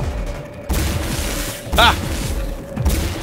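An enemy fires bug-like projectiles at the player in the video game Singularity, producing repeated booming thumps and a brief squealing burst. A player's short exclamation sits over the shots.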